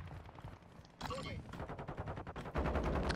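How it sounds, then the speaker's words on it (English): Heavy video game gunfire, many bullets cracking in rapid irregular bursts that grow louder toward the end, mixed with faint voices. "Just hearing a lot of bullets."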